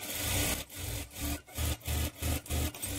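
A sewing machine stitches along the edge of a high-neck blouse lining in quick, even bursts, a rhythmic chugging whir pulsing steadily at close range with no talk.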